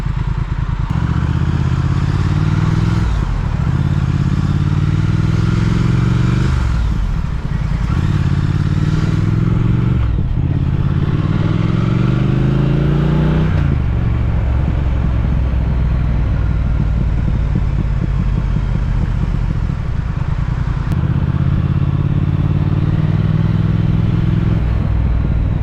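A Triumph Speed Twin motorcycle on the road, its engine droning loudly with repeated rises and falls in pitch as the rider shifts through gears, close and continuous with wind noise.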